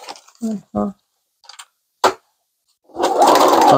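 A sewing machine stitches paper scraps for junk journals, starting after a few short bursts of speech and then running steadily and loudly up close for the last moment.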